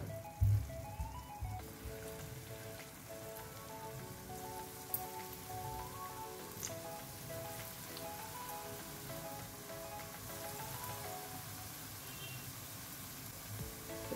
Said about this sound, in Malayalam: ഇപ്പോൾ ഓയിൽ ചൂടായിട്ടുണ്ട്. നമുക്ക് അതിലേക്ക് കുറേശ്ശെ എടുത്ത് ഇട്ട് കൊടുക്കാം.